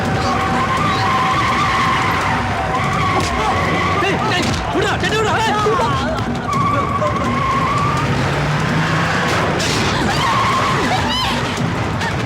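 In a Tamil film scene from Malai Malai, a vehicle drives off with loud skidding, squealing tires and a revving engine, with agitated voices talking over the sound throughout.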